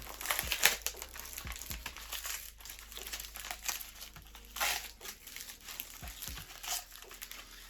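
Plastic and paper packaging from lost postal parcels crinkles and crumples in close, irregular bursts with occasional tearing, fairly quiet and without talk.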